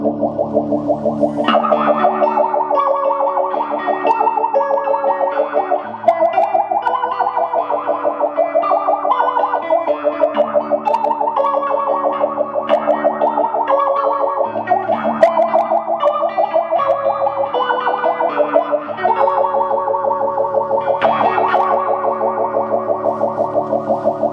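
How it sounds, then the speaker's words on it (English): An electric guitar plays a continuous melodic line through a SoaringTortoise Stereo VibeRotator pedal's fast vibrato setting at full depth, giving the notes a rapid pitch wobble. "I kind of think it sounds better vibrato fast setting"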